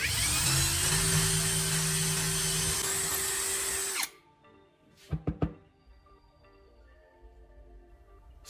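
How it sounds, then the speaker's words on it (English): A power drill bores a small hole into the face of a block, running steadily and loudly for about four seconds before stopping, followed by a few sharp knocks and clatters. "Now drill a small hole straight into the face of the block."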